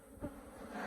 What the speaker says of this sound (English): a tarantula wasp landed right in the center of the bees